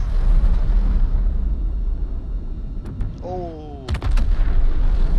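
Bombs blow up in a video game, giving heavy booming blasts close together over rumbling background game noise, with a descending whistling tone before them; a man gives a brief exclamation.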